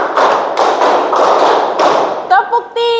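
Loud, close group clapping in a classroom clap routine, several sharp unified bursts of many hands in a steady rhythm, followed by brief voices at the close.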